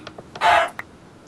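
A single short, raspy squawk from a Minecraft chicken sounds once, close and fairly loud, with a few faint clicks around it and no talking.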